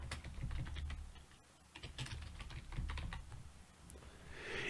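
Typing a comment on a computer keyboard: quick, irregular key clicks in short bursts, close and faint, with no voices.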